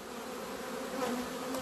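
Honeybees at a hive hum in a continuous, steady drone, close and moderately loud, with no voices.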